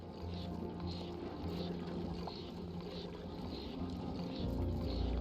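Water flowing and draining in the Oxygen Not Included video game, a steady watery pour with soft trickling, continuous and moderately quiet throughout.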